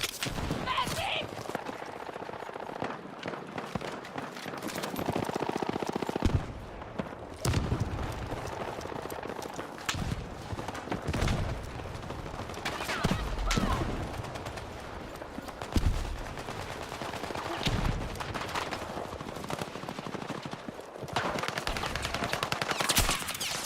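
Rapid gunfire bursts and single shots from a Battlefield 6 first-person shooter match, loud and repeated in uneven clusters across the whole stretch, mixed with game effects while a player talks excitedly over the action.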